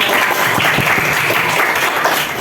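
Classroom applause fills the room, a dense, steady patter of many hands clapping close by, loud and continuous for the whole stretch with no talk over it.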